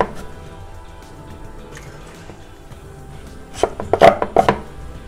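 A knife slices through breadfruit in a kitchen, quiet handling followed by a cluster of sharp, close chopping cuts near the end.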